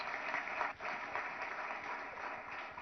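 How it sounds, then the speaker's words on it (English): Audience applause at a CII Telangana annual industry meeting held at a hotel, a steady, moderately loud wash of clapping from a crowd that continues evenly for a few seconds. "I think he deserves a huge round of applause."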